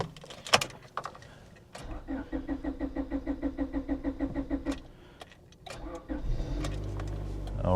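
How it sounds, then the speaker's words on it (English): A car engine is cranked with a fast, even run of starter pulses lasting a few seconds, stops, then catches and settles into a low idle, with clicks and thumps around it and a voice briefly audible. "Let's try to start an engine"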